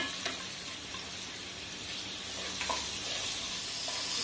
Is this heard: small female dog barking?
no